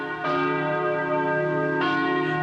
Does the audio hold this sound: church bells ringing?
yes